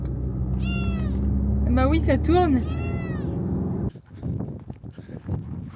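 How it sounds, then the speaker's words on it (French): A kitten riding in a car on a bivouac trip to Semnoz lets out several drawn-out, plaintive meows in close succession, followed by people talking and car noise. "il a vraiment un petit miaulement plaintif en mode ça me plaît pas"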